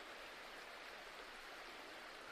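A river flows in a steady, even rush of water, a faint, continuous hiss with no breaks.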